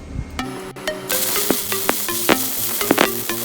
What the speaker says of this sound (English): I'm gonna weld this whole bead right now